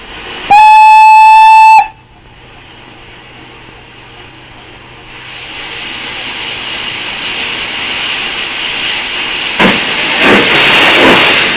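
Train pulling into a station: a loud, long horn blast opens, then a low rumble of wheels and carriages builds steadily louder and closer, with a few sharp clanks near the end.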